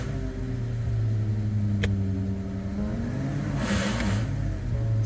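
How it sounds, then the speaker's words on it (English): Subaru FB25 engine with a supercharger forced on through the wrong pulley, a steady loud droning hum with a high whine. A sharp tick comes near two seconds, and a harsh rushing surge follows around four seconds. "when I force it to use the Supercharger"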